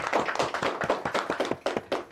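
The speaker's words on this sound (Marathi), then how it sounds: "हिच्यासाठी एकदा जोरदार टाळ्या." Studio audience on a Marathi TV show clapping for a child, a short burst of brisk, uneven hand claps close by that tapers off after about two seconds.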